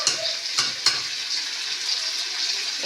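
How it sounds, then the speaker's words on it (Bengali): Vegetables fry in a pan with a steady hissing sizzle, broken by a couple of sharp clicks from stirring, and no speech over it. "একটু ভাজা ভাজা হোক এগুলো, তবে তো দিচ্ছি।"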